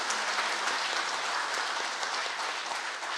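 An audience in a small parliamentary meeting room claps in steady, even applause from start to finish, moderately distant.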